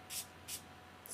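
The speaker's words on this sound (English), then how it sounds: "spray it with heat protectant" Heat protectant spritzed onto hair from a spray bottle: two quick, close hissing bursts with a third starting at the end, over a quiet room.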